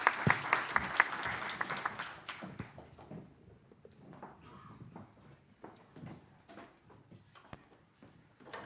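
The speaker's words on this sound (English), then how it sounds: "I want to give us a last round of applause and say thanks to the panelists." Brief round of audience applause for panelists at a regional business and biodiversity forum, fairly quiet clapping that fades within a few seconds, leaving scattered taps, shuffling and room noise.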